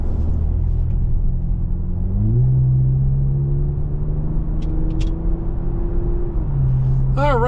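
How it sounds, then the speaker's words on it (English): A 2024 Toyota Camry TRD cruising down the road, its steady low engine drone and road rumble filling the cabin, with a smooth gear shift and shifting engine pitch along the way. "we're going down the road in this 24 Camry TRD for one last time"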